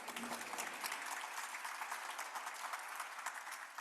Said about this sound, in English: Let's give a big round of applause to all of our nominees.